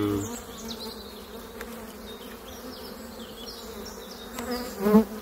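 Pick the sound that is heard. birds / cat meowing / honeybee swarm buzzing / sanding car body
honeybee swarm buzzing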